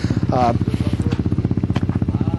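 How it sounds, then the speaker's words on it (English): Kawasaki KFX 450 ATV from 2008, a powerful off-road quad, idles close by with a steady, rapid engine thump throughout, while a voice briefly talks over it. "These are 2008 Kawasaki KFX 450 ATVs."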